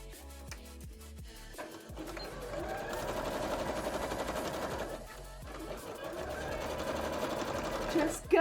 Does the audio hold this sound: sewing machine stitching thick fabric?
yes